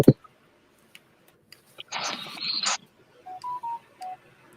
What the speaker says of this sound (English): I keep forgetting to turn it off.